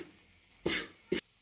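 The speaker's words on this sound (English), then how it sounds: "I have very bad cough." A person with a bad cold coughs twice in a kitchen while a chicken stew is being made, two short, close, husky bursts separated by a brief pause.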